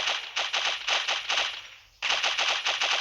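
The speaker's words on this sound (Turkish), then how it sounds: "Evet, otomatik vuruyorum." Rapid automatic gunfire from a weapon in the mobile shooter Pixel Gun 3D, loud bursts of evenly spaced shots with a brief pause before firing resumes.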